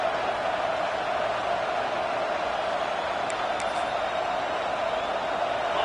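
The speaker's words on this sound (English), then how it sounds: "This crowd ready to make its presence known." Stadium crowd in College Football 25, a steady, continuous roar of distant cheering that holds at an even level throughout, with no sharp peaks.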